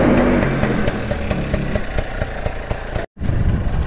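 A homemade jeep built by a plus-two student, its silencer mounted at the front, runs at a steady idle with a loud, even chugging rumble that drops out for a split second near the end.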